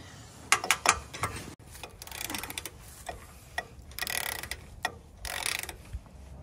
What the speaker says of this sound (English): The torque wrench that we were able to find is like 20 through 100, so I'm going to do it to 20.